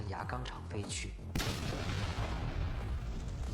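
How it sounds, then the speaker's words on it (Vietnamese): Speech is cut off by a sudden loud bomb blast at a steel rolling mill that erupts into a sustained rumbling roar, heavy and close, lingering for a few seconds. "Sau một tiếng nổ lớn"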